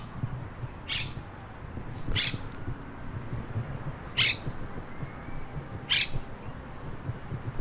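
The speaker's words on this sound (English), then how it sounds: "oh, there's a bird here." Parrots squawk outdoors in four harsh, separate calls spaced a second or two apart, standing out over a steady low background rumble.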